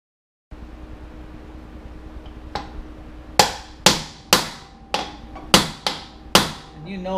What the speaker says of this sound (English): now I'm gonna stop talking and start hammering